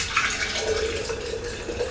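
Cold coffee pours into a glass while the ice is strained away, giving a short, close splashing trickle of liquid with no talk.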